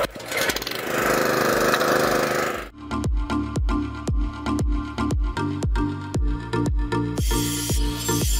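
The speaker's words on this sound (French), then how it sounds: "démarrer le groupe électrogène." A petrol generator engine cranks with a rough broadband burst, then runs with a loud, rhythmic chugging pulse, close and steady over several seconds, with no one talking.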